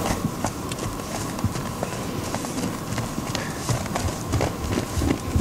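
Horse moving loose around a paddock, irregular hoof thuds and clip-clops on the ground at moderate distance, continuing steadily throughout with faint ambient noise behind.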